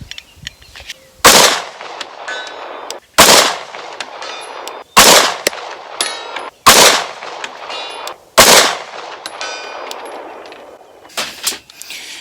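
Bear Creek Arsenal Grizzly 9mm pistol firing six loud, sharp shots at uneven intervals of roughly one and a half seconds, each with a short outdoor echo, plus quieter clicks and handling noises near the end.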